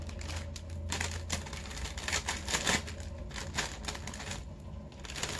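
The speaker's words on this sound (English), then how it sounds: "These scissors are a little dull, so I'm just tearing it as I cut." Close, irregular snips and crinkly tearing of plastic cut with dull scissors, a run of sharp little cuts and rustles with no talking.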